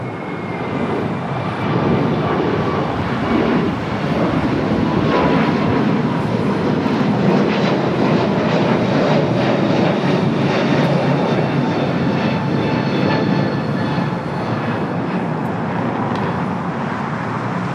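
A KLM airliner passing at LAX, a loud, sustained engine roar holding steady for many seconds with a faint whine above it, close and continuous.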